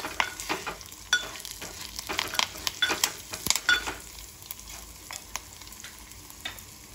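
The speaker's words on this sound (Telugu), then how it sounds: "మంచిగా వేగాలండి. కలుపుకుంటూ ఉండాలి" Tempering (popu) for a lentil-free rasam sizzles in oil in a pan, with steady frying crackle and repeated scraping, clinking stirs throughout; close and fairly quiet, with no talking.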